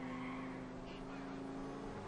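A car drifts in Grand Theft Auto 4, with a continuous tire squeal and engine drone that stay fairly quiet and steady throughout.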